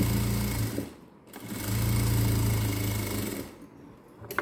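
A sewing machine stitches a fold of blouse lining in two close-up runs of steady motor whirring, split by a brief pause and ending with a short stop.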